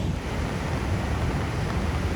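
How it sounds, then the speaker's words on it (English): Ocean waves and strong wind on the coast of Siargao roar as a steady, dense wash of noise with heavy wind buffeting the microphone, loud and continuous with no distinct breaks. "Waves are just making sea spray."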